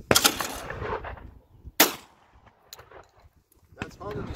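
Shotgun blasts outdoors on a mountainside during a family outing, two sharp loud reports a little over a second apart, each with a short echoing tail, amid scattered handling noise and quiet talk.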